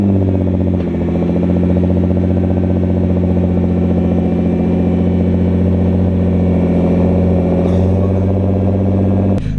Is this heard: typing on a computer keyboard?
no